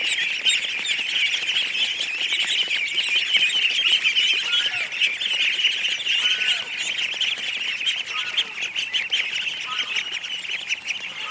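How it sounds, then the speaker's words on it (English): A crowd of ducks in an enclosure gives a dense, steady chorus of quacks and chirps at close range, with no talk. "Come on, wake up, ducks."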